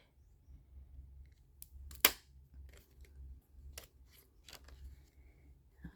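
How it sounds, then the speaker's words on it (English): A small hole punch clicks through the top of a paper greeting card, one crisp snap followed by a few soft clicks and paper handling in a quiet room. "we're going to make a little hole punch at the top of our card"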